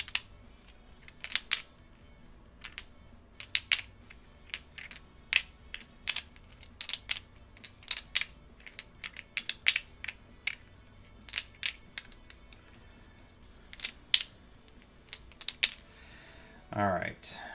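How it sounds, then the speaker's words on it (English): Playing cards shuffled by hand for a tabletop tactics board game, a run of crisp riffling bursts and snaps repeating at a steady pace, close and fairly quiet with no talking over it. "Give these a shuffle here now."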